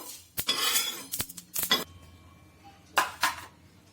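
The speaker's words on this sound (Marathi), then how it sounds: "बाजरीचा पण आवाज येतो." Pearl millet (bajra) grains dry-roasting in a pan for a Maharashtrian masala, heard as short bursts of rattling and clinking as the grains are stirred, separated by quiet pauses.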